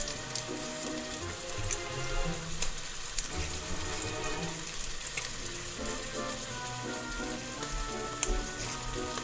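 Pasta frying in a pan gives a steady, close sizzle through the whole stretch, with faint clinks and light rustling of stirring now and then and no talk over it.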